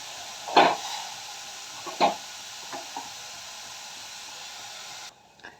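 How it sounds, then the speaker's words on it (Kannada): Beetroot frying in a pan for beetroot holige gives a steady, close sizzle with a few short stirring scrapes near the start and no voices. "ಹಸಿ ವಾಸನೆ ಹೋಗೋ ತನಕ ಫ್ರೈ ಮಾಡ್ಕೊಳ್ಳೋಣ"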